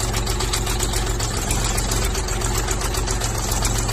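A mini tractor with a front loader and reverse gear runs steadily at close range, its engine putting out a continuous, even chugging idle with a mechanical knock and no talk over it.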